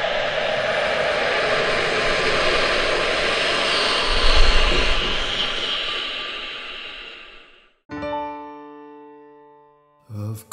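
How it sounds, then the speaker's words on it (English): Rocket launch engine ignition after a countdown: a loud, sustained broadband roar that swells with a low rumble midway, then cuts off abruptly into a music-like tonal passage. "10, 9, 8, 7, 6, 5, 4, 3, 2, 1, 0, ignition."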